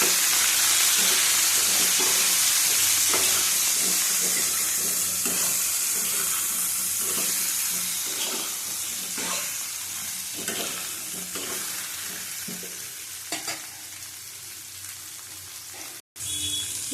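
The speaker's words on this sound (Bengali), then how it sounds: "হলুদ দিলাম অল্প। ভালো করে ভেজে নেবো এবার।" Pointed gourd and potato pieces frying with turmeric in oil, a loud continuous sizzle and hiss with repeated rhythmic stirring scrapes of a spatula across the pan.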